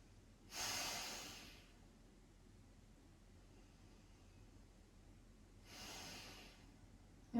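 Slow, deep breaths while resting in a yoga pose: two long, soft airy exhalations a few seconds apart, close and quiet, with near silence between them and no talking.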